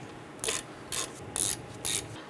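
A ratchet clicks in four short bursts, close and crisp, as brake caliper bolts are snugged down on the rear brakes of a 1995-2001 Ford Explorer.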